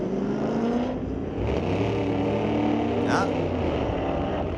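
A 1972 Nova and a 350 Corvette drag racing at a street-legal drag night at Mission Raceway Park, engines roaring loud and sustained with a rising pitch, a brief voice exclamation over the noise.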